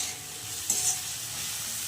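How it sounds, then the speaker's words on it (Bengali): Onion sizzles in hot oil with a little salt added, a steady broadband frying hiss throughout, broken by one brief scrape of stirring partway through. "পেঁয়াজটাকে দিয়ে নাড়াচাড়া করার পরে আমি একটু লবণ দেবো। লবণটা দিলে পেঁয়াজটা মজে আসবে তাড়াতাড়ি, ভাজাটাও আমার তাড়াতাড়ি হবে।"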